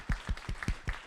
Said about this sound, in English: let's give them a quick round of applause first